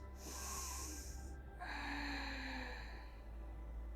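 A deep breath in during a yoga session, a close, breathy inhale that swells then shifts into a softer airy rush, with no talking.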